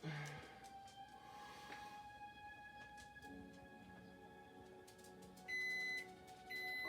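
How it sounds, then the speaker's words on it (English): A kitchen timer going off while pasta salad is made, steady electronic alarm tones sounding over a hissy background, with a louder repeating beep pattern near the end. "There's my timer."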